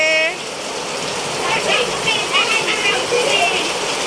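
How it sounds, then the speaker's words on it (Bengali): Heavy rain pours steadily outdoors, a dense close wash of falling water with a few brief voices, as children bathe in the downpour. "আজকে বৃষ্টিপাত"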